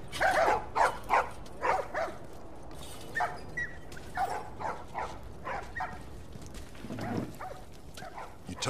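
Several dogs bark in short, repeated bursts in the video game The Last of Us Remastered, mid-distance and fairly loud, with a few yips and whimpers between barks.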